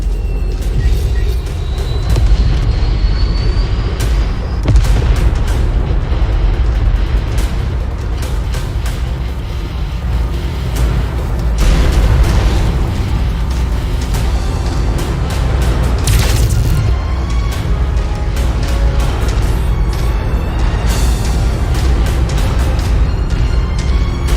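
Repeated booming explosions and sharp cracks from battling mechs in MechWarrior 5: Mercenaries, heavy and loud over a constant rumbling engine drone, with bursts scattered throughout and no talking.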